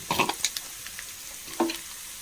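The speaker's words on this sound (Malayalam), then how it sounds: "നന്നായി ഇളക്കി കൊടുക്കാം" An onion and crushed chili mixture being stirred in a frying pan for uthappam, a spatula scraping in a few quick bursts over a soft sizzle, close and without speech.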